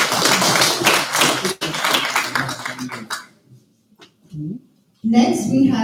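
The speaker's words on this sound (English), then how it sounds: "Please give me a hand of applause for those associates." Graduation ceremony crowd applauding associate's degree graduates, a dense wash of clapping for about three seconds that fades, then a brief burst of renewed clapping near the end.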